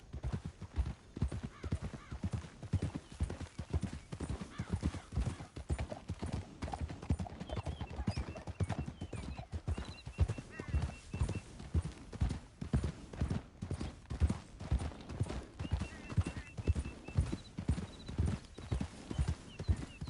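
Horse hooves clip-clop steadily on the ground in Red Dead Redemption 2, a continuous close rhythmic trot that runs throughout at a moderate level with low rumbling in the background.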